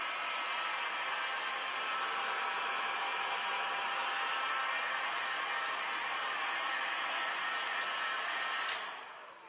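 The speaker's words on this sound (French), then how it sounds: "Je peux le sécher, par exemple, moi j'utilise le décapeur" A heat gun blows hot air to dry paint on a leather car seat, producing a loud, steady, close-up whooshing roar that holds constant for several seconds before trailing off at the end.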